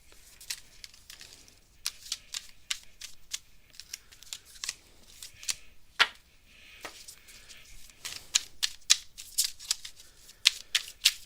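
A deck of tarot cards is shuffled during a live reading, with irregular bursts of crisp riffling and snapping card edges, close and fairly quiet, with no talking over it.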